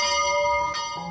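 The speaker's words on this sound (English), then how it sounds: "The sound of a bell." A church bell strikes once, loud and close, and its bright ringing tone hangs steady before a second faint strike near the end.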